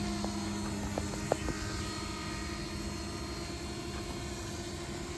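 A Cessna 172 engine runs on sand, a steady droning hum with faint ticks and a brief knock near the start, unbroken and even in level throughout.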